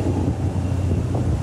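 Typhoon wind sweeps over Penghu's coast, a loud, constant roar buffeting the microphone with the churn of heavy waves beneath, no voices.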